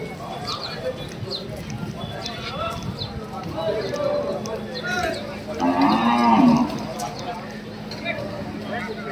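Cattle low and moo at a busy open-air cattle market, with a loud drawn-out moo standing out near the middle over a steady hubbub of people talking and market bustle.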